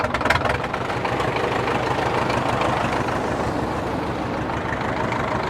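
A Cat 922B wheel loader's engine idles roughly, a loud, close, continuous diesel rumble with a few uneven knocks at the start.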